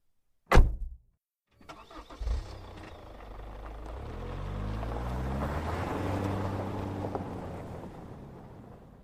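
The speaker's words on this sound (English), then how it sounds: "We drove away into the night" A coupe's engine starts with a sharp crank, then revs and rises steadily as the car pulls away into the night, growing into a sustained, fairly loud drone; an old-time radio drama sound effect with no voices.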